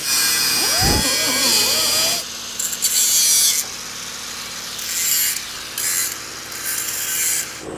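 A tool cuts through a fuel line beneath the 7.2-litre V8 engine of a 1976 Chrysler New Yorker, making harsh rasping bursts that stop and restart, with faint talk in the background.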